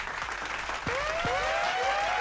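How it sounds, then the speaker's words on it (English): Faint applause rustles in the background of a casual talk show, joined by a couple of rising whistles, soft and somewhat distant. "clap it up for that"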